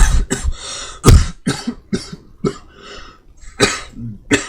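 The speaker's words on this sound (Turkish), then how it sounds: "Öksürük krizi başladı az önce gençler geldi." A close, loud coughing fit: a rapid series of harsh, hacking coughs with raspy breaths between them, continuing without letup.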